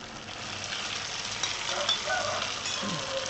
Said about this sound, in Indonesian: Itu dulu aja kita goreng, kita tunggu sampai matang.